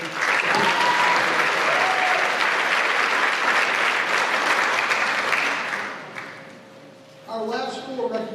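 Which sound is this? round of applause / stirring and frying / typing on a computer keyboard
round of applause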